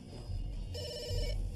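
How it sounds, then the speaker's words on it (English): A telephone rings once with a trilling electronic bell over a low background hum, fairly close and clear. "Ed monitors Mabel's phone calls and rarely allows her to speak on the phone"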